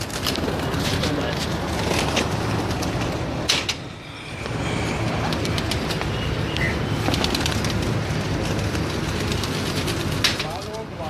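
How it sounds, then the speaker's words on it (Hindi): Breeder pigeons on a rooftop coo softly and intermittently amid steady outdoor background noise, with a brief flutter-like rustle in the middle. "ये जी खलीफा नवीस साहब के ब्रीडर कबूतर हैं।"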